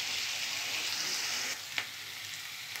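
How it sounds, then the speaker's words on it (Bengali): Onion paste frying in a pan for chicken chaap gives a steady, even sizzle close by, with one small clink partway through and no talking. "এবার পেঁয়াজটা আমি ভাজতে দিলাম।"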